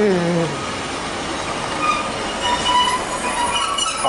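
A Class 156 diesel unit runs through Beeston station on the Midland Main Line, with a close, steady rolling rumble and high wheel squeals that rise and fall throughout.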